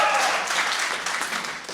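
Applause from a church gathering greeting Calvary pastors from Culiacán, a dense, steady wash of clapping filling the whole short moment with no voices on top.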